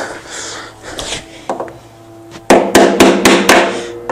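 Screwdriver struck against the center of the shaft on a Vespa P200E engine being removed, a run of sharp metallic knocks that gets louder and faster toward the end, up close.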